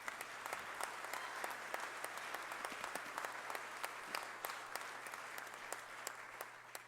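Steady crowd applause fills a State of the Judiciary address hall during introductions of state officials, with dense overlapping clapping and a few sharper individual claps standing out, continuous throughout and fairly close.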